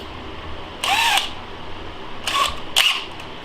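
Power drill boring an 11/64 hole for a DIY guitar tremolo blocker, three short close whirring bursts with brief gaps in a quiet room.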